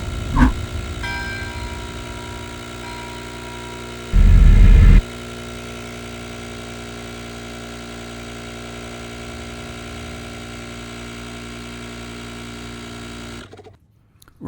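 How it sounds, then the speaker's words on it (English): A Ring RTC6000 cordless tyre inflator pumps up a tyre, a steady mechanical buzzing drone with a constant rhythm, close and loud, briefly louder for a moment before it stops near the end. "the unit will set about actually pumping the tyres to the target pressure"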